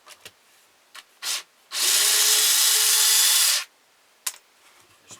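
A power driver backs screws out of the wooden back panel of a ventriloquist dummy, one sustained whir of about two seconds, with brief clicks and handling knocks before and after.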